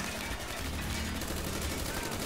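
Rapid gunfire in the Call of Duty: Black Ops video game, loud and steady across the moment, with automatic bursts blending into dense battle noise and a voice faintly underneath.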